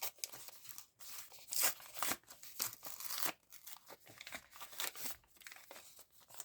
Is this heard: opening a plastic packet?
yes